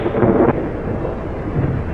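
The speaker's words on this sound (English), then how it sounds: "Storm's just as bad as ever," A thunderstorm pours steady, loud rain with a low rumble of thunder rolling underneath, swelling briefly at the start and then holding as a dense, continuous wash.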